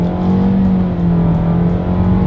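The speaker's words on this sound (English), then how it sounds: "let's do a quick little acceleration test, giving back full control to the Rogue" A 2021 Nissan Rogue accelerates at full throttle, a steady, loud engine drone heard from inside the cabin, with road noise and no talking.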